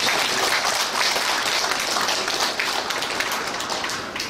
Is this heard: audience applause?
yes